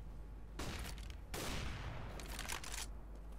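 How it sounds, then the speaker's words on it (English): A flashbang grenade goes off in a round of CS:GO, with sharp bursts of broadband noise separated by short gaps and a longer blast in the middle, loud and close over steady game background. "Throwing flashbang."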